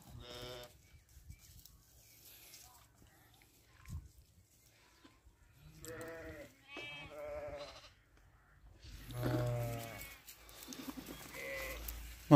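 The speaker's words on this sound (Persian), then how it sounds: "این گوسفندای بارادور" Sheep bleat in several separate calls spread over the stretch, some close and some quieter, around a flock during the winter mating season, with someone talking softly between them.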